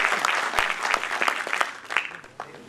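An audience that includes history students claps in tribute to a teacher, brisk and fairly close, with individual claps audible in the crowd and the applause gradually thinning toward the end.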